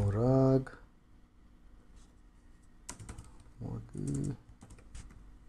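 Typing a name on a computer keyboard: a few brief key clicks between stretches of a man's speech, which starts and ends the span, soft and close.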